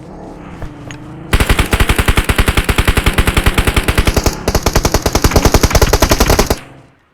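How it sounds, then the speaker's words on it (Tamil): Rapid automatic gunfire from the mobile game BGMI, a loud sustained burst of evenly spaced shots lasting several seconds after a quiet lead-in, with a short break midway before the firing resumes, no talking. "அடிங்க கவர் ஃபயர் கொடுங்க யாராவது"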